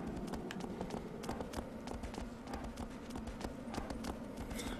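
Horse hooves clip-clop in Shadow of the Colossus, a quick irregular run of sharp, close knocks on stone steps, fairly quiet over a rumbling ambient bed.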